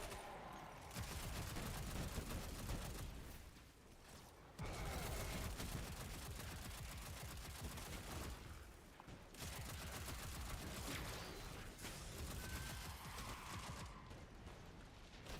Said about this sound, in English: I know these strand turrets are getting annoying.